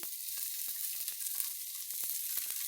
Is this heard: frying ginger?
yes